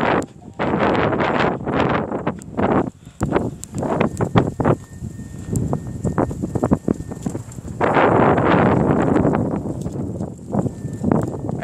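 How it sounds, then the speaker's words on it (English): Strong, bitterly cold wind blowing outdoors during an arctic blast in New York, roaring and buffeting the microphone in loud gusts with short lulls, branches stirring, no talk. "Is to see the branches moving by the winds."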